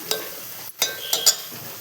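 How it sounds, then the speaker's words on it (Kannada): Mixed vegetables fry in a pan for a rice dish, a steady soft sizzle broken by a few sharp scraping stir strokes, close and without talk. "ಸೊ ನೋಡಿ, ಈಗ ತರಕಾರಿ ಎಲ್ಲ ನೀಟಾಗಿ ಫ್ರೈ ಆಗಿದೆ."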